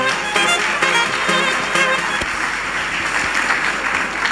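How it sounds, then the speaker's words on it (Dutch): A live audience applauds the organiser and president of Miss Style Belgium at the Miss Style 2013 final, a steady wash of dense clapping that starts loud and thins slightly as it runs on without a break. "Geef haar een warm applaus"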